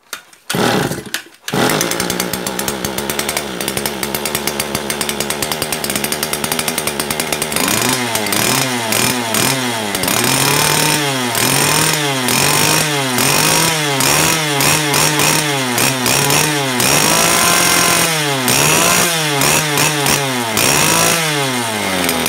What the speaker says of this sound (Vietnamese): Em sẽ test máy cho các bác nghe tiếng máy nhá.